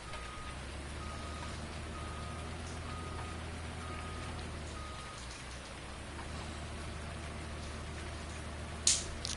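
Rain falling in a video game, a steady, even hiss of drops on surfaces with a faint, regularly repeating electronic beep underneath and a brief louder splash near the end.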